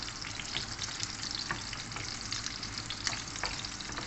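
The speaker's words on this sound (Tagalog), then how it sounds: "Andahanin na kasi sobrang init ang mantikang kumukulo" Onion frying in very hot, boiling oil gives a steady, close sizzle with scattered sharp pops and crackles throughout, no voices.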